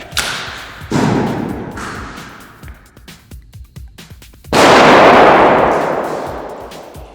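RGS-4 airsoft grenades thrown and bursting outdoors, heavy booming blasts with long noisy decays, one early and a louder one later, separated by a scattering of sharp cracks and pops.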